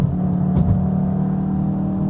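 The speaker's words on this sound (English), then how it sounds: "the Cupra mode, you hear again the exhaust a little bit different" A 2021 Cupra Leon 300's exhaust in Cupra mode rumbles and growls at a steady idle-to-rev level, a deep throaty drone with a slight swell partway through.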